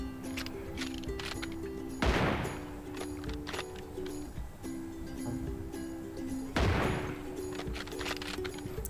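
In a duo match of a battle royale video game, two booming Kar98k sniper shots ring out about four seconds apart over a steady hum of game ambience and music.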